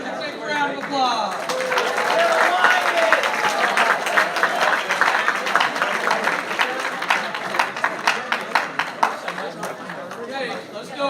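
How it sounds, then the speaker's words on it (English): An audience at a high school underclassman awards ceremony applauds the juniors, a loud, sustained burst of clapping mixed with crowd chatter that thins into scattered claps toward the end. "let's give the juniors a big round of applause"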